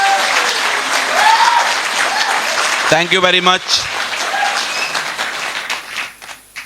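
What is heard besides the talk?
audience applause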